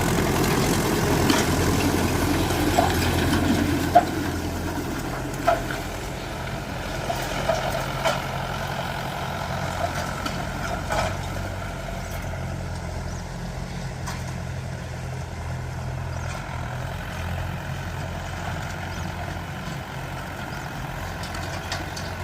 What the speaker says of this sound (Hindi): इतने एरिया में जहाँ ये ट्रैक्टर चल रहा है